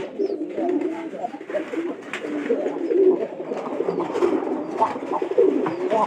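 A pair of pigeons coo in low, throaty, overlapping phrases close by, with faint rustling around them and no speech.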